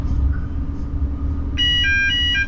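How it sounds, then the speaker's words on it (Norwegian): The SIFA vigilance alarm in the cab of a Type 76 train sounds as a repeated two-tone electronic beeping pattern near the end, over a low rumble of the moving train. "Det var SIFA-alarmen igjen."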